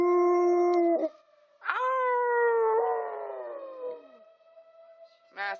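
A husky howls along with a fire alarm, long wavering howls rising and falling close by, with short pauses between and a final brief yowl at the end.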